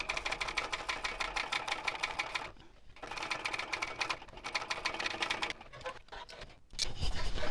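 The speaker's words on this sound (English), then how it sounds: "stitch around the outside edge of this panel" A sewing machine basting handbag panels together into one solid piece, running in steady close bursts of rapid stitching broken by short pauses, with a final burst starting near the end.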